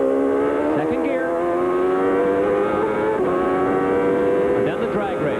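A 1994 IndyCar race car at Road America roars at high pitch, its engine note climbing steadily through the gears with brief dips at the upshifts, loud and continuous throughout.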